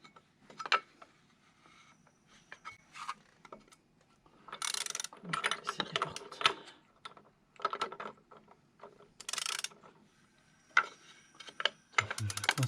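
A ratchet working on a BMW K100 motorcycle engine during a clutch and engine seal change, heard as bursts of rapid clicking with pauses between them, close and fairly loud, with handling noises and no talking.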